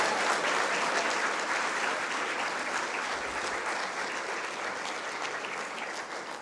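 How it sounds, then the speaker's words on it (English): Sustained audience applause at a youth leadership symposium, a dense steady wash of clapping hands that fades gently toward the end, with no voices over it. "I think she deserves another round of applause."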